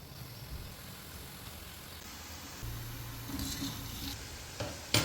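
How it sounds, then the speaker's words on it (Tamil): Kaarasev dough fries in hot oil as a faint, steady hiss of quietly subsiding bubbling, with a slight clink near the end. "எண்ணெயில் உள்ள சலசலப்பெல்லாம் கொஞ்சம் கொஞ்சமாக குறைஞ்சிட்டு வருது"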